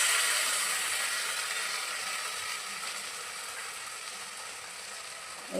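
Egg and tomato sauce fry in a hot pan for onion pasta, giving a steady, close hiss of sizzling that fades slightly over time, with no voices.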